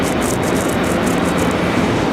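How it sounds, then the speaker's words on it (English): A C-17 military transport aircraft passes directly overhead near Raleigh-Durham International Airport, a steady, loud broadband jet roar that holds unchanged for the whole two seconds. "There's a C-17 directly above us."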